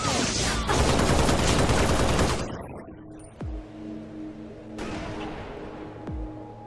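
Dense, loud rapid gunfire from a Halo video game rattles for about two seconds, then breaks off into a few separate single shots spaced apart over a quieter background.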